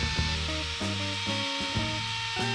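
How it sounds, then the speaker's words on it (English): A router trims a chamfer into a wooden Christmas star box mounted on its side, giving a steady, close, loud whining drone with shifting pitch as the bit cuts, no talking. "I realised that I could use the router to put that chamfer on"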